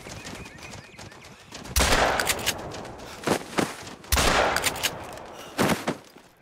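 Gunshots in the hunting game theHunter: Call of the Wild, two loud booming rifle reports with rolling echoes plus several sharper shots and clicks between them, close and forceful.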